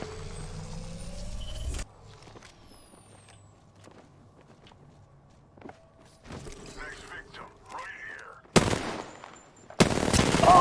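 Gunfire in the video game Apex Legends: sparse shots over a quiet stretch, then two loud, dense bursts of rapid automatic fire near the end, with game sounds around them.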